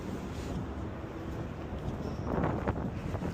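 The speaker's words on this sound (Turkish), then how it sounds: "Biraz rüzgar var." Wind buffets the microphone of Ray-Ban Meta glasses at night in Dubai in a steady low rumble, swelling into louder gusts toward the end, with no voices.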